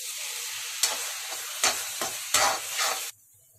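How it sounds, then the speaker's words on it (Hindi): Kathi kabab masala with tomato paste stirred and fried in a pan: close sizzling with several distinct scraping strokes of the spoon, then the sound drops away abruptly near the end, with no talk. "ये अब इसको मिक्स कर लेंगे, भून लेंगे थोड़ा।"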